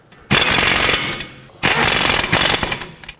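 Ratchet cranking nuts onto a strut bracket on a 2007-2009 Saturn Aura: two loud bursts of rapid, rattling pawl clicks, each about a second long, separated by a brief pause, close to the ear.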